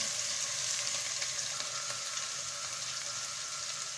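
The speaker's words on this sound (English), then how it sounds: "just allow the onion to get fried a little bit" Onion fries in a pan with mushrooms, a steady, moderately quiet sizzle that holds evenly throughout with no speech.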